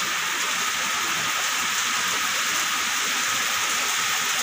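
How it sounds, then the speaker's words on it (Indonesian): Steady rain pours down around a street es doger vendor's stall, a continuous, dense hiss that stays loud and even throughout, with no voices. "sudah diguyur hujan ya"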